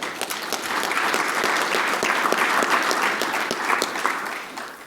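A convention audience applauds in a dense, steady burst of clapping that holds for several seconds and then tapers off near the end.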